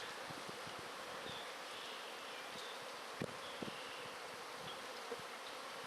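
Bees buzz in a steady, soft drone while beehives are taken apart during spring cleaning, with a few faint knocks and clicks of hive parts breaking through.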